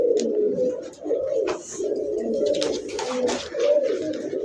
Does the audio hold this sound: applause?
no